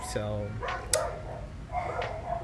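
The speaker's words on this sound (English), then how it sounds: "I'm sorry for the noise outside. My dogs are doing their dog thing." Dogs barking outdoors, with a short sharp yip near the start and further barks a little way off, under a speaking voice.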